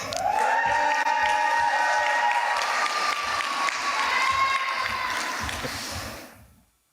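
Graduation ceremony audience applauding and cheering at a commencement, a dense, steady wash of clapping with whistles and shouts throughout, fading out at the end.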